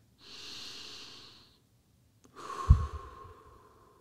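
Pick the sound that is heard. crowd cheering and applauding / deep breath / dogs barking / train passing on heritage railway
deep breath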